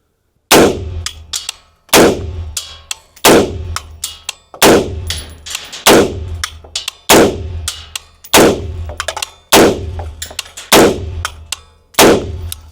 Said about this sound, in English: So let's go ahead, throw 10 rounds through it, and see how it shoots